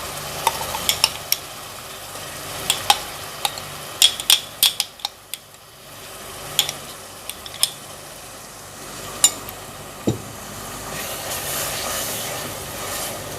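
Onion paste sizzling and frying with garlic-ginger paste in a pan, stirred with a spoon that clinks and scrapes in repeated sharp taps over a steady soft sizzle.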